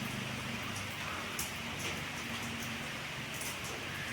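Heavy rain pours down steadily, a dense even hiss broken by a few louder spatters, with a faint low rumble underneath and no voices.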